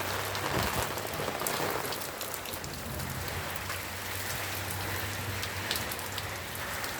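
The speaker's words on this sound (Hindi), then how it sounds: "इतना तेज़ बारिश हो रहा है।" Heavy rain pouring down outside a shelter with a curtain, a dense, steady hiss of drops striking surfaces, constant and close with no voices.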